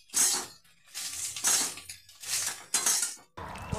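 Puffed rice being stirred in a pan, village style, in bursts of dry rattling and scraping that rise and fall in about four strokes, with brief pauses between and no talk.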